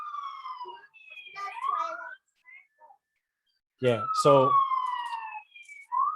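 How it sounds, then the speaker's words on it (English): A siren wails past on a street, its rising and falling tones sweeping loud and close, while someone speaks briefly over it. "Let this ambulance pass."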